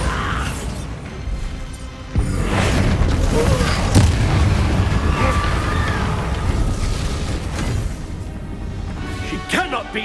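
A Confringo spell blast in Hogwarts Legacy lands with a sudden heavy boom, then a long roaring rumble of fiery debris that carries on for several seconds, with faint voices and magical effects around it.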